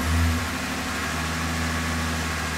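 A car engine runs close up in the engine bay, a loud, steady mechanical hum with a brief low swell at the start, settling into an even idle.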